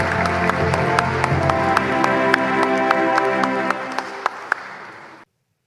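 A church congregation at a Catholic archdiocese service in Jakarta applauds with steady, moderately loud clapping and a few sharper individual claps, lasting around five seconds before stopping abruptly.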